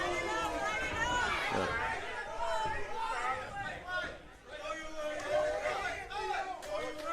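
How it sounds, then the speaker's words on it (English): A crowd at a pro boxing fight in Nashville, Tennessee, shouts and calls out to the fighters, a steady babble of many voices with louder yells rising throughout, heard at a distance. "you hear the crowd telling you to throw that right hand"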